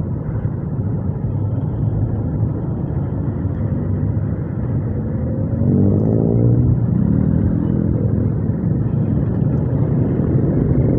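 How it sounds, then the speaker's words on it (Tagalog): A Honda Supra GTR 150 motorcycle ridden through traffic, its engine a close, constant low rumble that climbs in pitch as it accelerates midway, with road and wind noise underneath and no talking. "patakbo tong motor na to."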